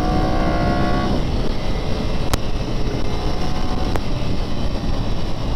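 A fast motorcycle at the Isle of Man TT roars past, a loud, dense engine and wind rush that stays steady and close, with the pitch dropping sharply near the start as the bike goes by.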